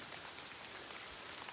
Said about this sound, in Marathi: एकदम चिमचिम पाऊस पण चालू आहे